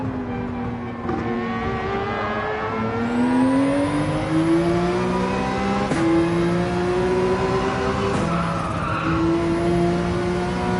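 A Mazda race car in Gran Turismo 7 revs hard, climbing through the gears with loud rising engine pitch. Each shift gives a brief drop before the next rise, and tyre noise runs under it.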